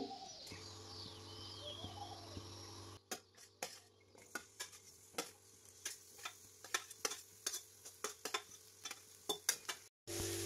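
Onion, lentils, coriander, tomato, ginger, coconut and garlic are dry-roasted in a pan and stirred, giving a soft steady sizzle punctuated by repeated sharp scraping taps of a spoon, with birds cooing faintly in the background.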